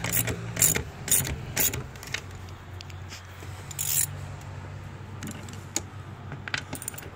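Wrench snugging brake line flare nuts on a Mazda Tribute during ABS module and pump replacement, with a series of sharp metallic clicks and clinks in irregular bursts over a low hum.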